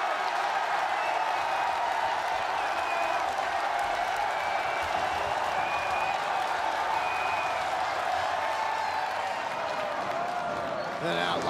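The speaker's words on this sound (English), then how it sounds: "the crowd is calling for a signature move" A wrestling crowd cheers and calls for a signature move, a steady roar that fills the whole stretch evenly, with an excited commentator talking over it.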